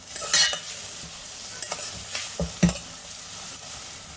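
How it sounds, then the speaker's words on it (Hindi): Crushed ginger and garlic sizzle softly in a hot pan over a low gas flame while a utensil scrapes and stirs now and then, with a few louder clinks. "अब इसमें डालेंगे हम कुटा हुआ अदरक और लहसुन 1 टेबलस्पून। अब इसे भी भून लेते हैं।"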